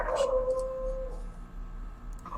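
A dog lets out a short, wavering howl that fades after about a second, heard at moderate distance over a steady low hum.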